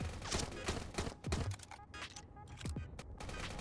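Rapid gunfire from the World War II mobile shooter Warfare 1942, bursts of shots and distant blasts in quick succession, fairly quiet overall with game effects between volleys.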